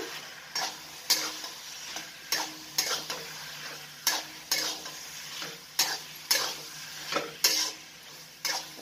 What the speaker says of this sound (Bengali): সামান্য সামান্য দিয়ে এটাকে নাড়াচাড়া করে দেব। যেটা কড়ার চারদিকে বসে গেছে।